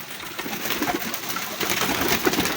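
Pigeons coo close by in a continuous soft, throaty burble that rises and falls over a light noisy background, with no talking.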